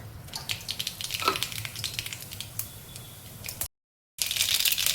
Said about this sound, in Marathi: मोहरी टाकून घेऊया।